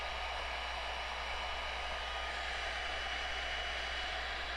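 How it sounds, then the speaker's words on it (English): An electric heat gun blows hot air at heat-shrink tubing on a wire terminal. It makes a constant, even whooshing roar with a low motor hum underneath, close by and steady the whole time. "Once the gun's warmed up, place the end a few inches from the terminal and apply even heat to the tubing"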